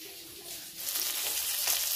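Fish frying in a pan in a home kitchen, a bright hissing sizzle that swells loudly after a quieter start and holds steady for a couple of seconds, close and alone without talk.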